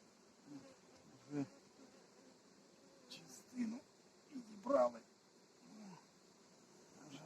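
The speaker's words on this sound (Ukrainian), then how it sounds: "Бджола в полі" Honeybees buzz in a faint, steady drone at hives beside a field of goldenrod, with a few louder thumps and scattered low voice-like sounds breaking in at intervals.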